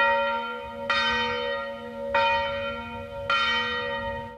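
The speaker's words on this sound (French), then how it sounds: "les cloches de l'église sonnent de 7h du matin à 10h le soir" A church bell in Gajac, France tolls three times at an even, slow pace, each strike ringing out brightly and humming away before the next.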